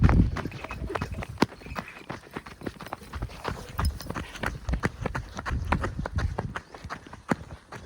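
A bull runs along a village track in Kotheri-Morewadi, its hooves thudding on the ground in a quick, irregular rhythm, close and moderately loud.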